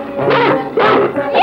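A dog barks in three short, loud, close bursts spaced about half a second apart, with no other sound around them.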